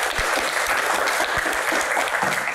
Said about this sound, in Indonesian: terkhusus tepuk tangan paling meriah untuk Pak Tahir.